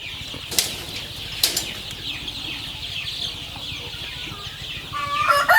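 Chickens being fed azolla cluck and bustle, with a couple of sharp bursts of wing flapping and a rising flurry of clucks and squawks near the end, fairly close and without speech.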